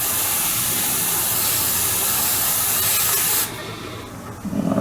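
Airbrush or spray can hissing steadily and loudly as paint goes onto a scale model StuG III Ausf G tank, a continuous spray that cuts off abruptly near the end, leaving a quieter background.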